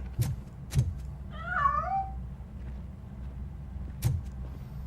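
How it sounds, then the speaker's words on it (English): A cat meows in a rising and falling cry mid-clip in the video game RoboCop: Rogue City, with a few sharp knocks before and after over a steady low hum. "That cat must be hiding inside."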